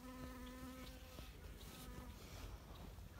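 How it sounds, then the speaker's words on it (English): A bee buzzes close to a hand outdoors at a horse barn, its wavering drone rising and shifting in pitch over steady background noise. "There's a bee on my hand."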